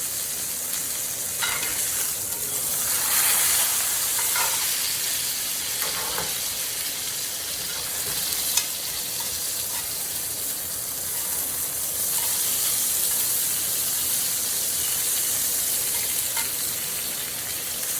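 Steak sears in a hot pan, a steady close frying hiss running throughout with occasional sputters and brief stirring or scraping clicks, no voices.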